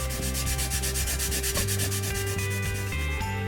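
Hand polishing of a Honda Magna 50 engine clutch cover with stripped paint, a close, steady rhythmic rubbing with regular back-and-forth strokes, no voices.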